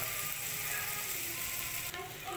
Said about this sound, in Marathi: कांदा चांगला लालसर भाजायचा